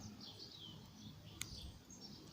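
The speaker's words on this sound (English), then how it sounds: "Lots of bird songs out here, it's quite nice." Birds sing faintly outdoors on a spring day, thin chirps and warbles drifting over steady background noise, with one brief sharp click partway through.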